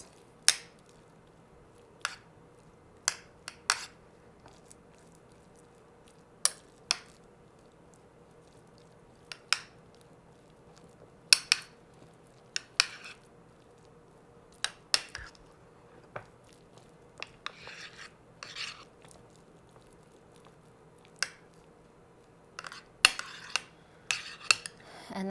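Utensils scrape and tap while the last plantain layer is spread over a pastelon in a home kitchen, giving sparse, sharp clicks and scrapes at irregular intervals against a quiet background.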